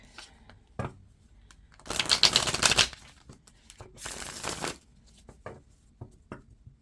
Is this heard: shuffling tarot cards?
yes